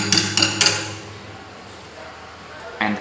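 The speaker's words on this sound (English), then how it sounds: "To do so, you have to use a pin extractor." A pin extractor knocking a pin out of the knob on a hydraulic machine's pressure limiter: three sharp metallic taps in quick succession, close and clear, then a pause and one more tap at the end.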